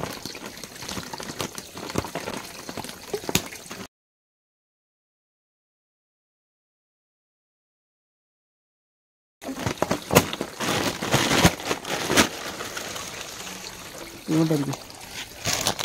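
Water pours and trickles as Japanese koi carp fry are released into a natural pond, splashing close by in two stretches broken by a silent gap, with people talking over it.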